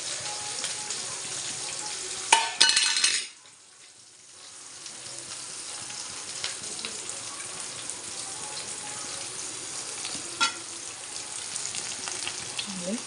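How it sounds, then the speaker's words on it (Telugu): Onions fry in a pan with a steady close sizzle. Near the start comes a short burst of clatter, then a brief dip, and the sizzle resumes with occasional stirring clicks. "ఇంకా ఫ్రై అవుతుంది."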